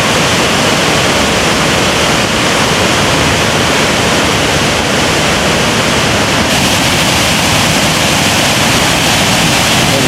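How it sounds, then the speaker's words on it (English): A waterfall's spray roars in a loud, unbroken wall of rushing water, heard up close and steady from start to finish with no other sounds breaking through. "Hear the feel of water spray and the sound and roar of the falls assault our senses"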